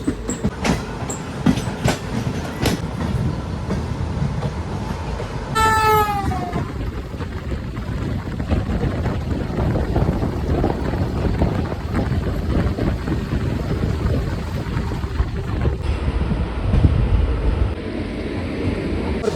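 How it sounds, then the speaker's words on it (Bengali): Sambalpur–Puri Intercity Express passenger train pulling out of Khurda Road Junction, its wheels clattering steadily on the rails from inside the carriage, with a brief horn-like tone early on and continuous rumbling. "7 মিনিট আমাদের ট্রেন ছেড়ে বেরোচ্ছে Khurda road junction railway station থেকে।"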